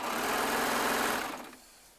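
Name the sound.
Baby Lock serger sewing quilt strips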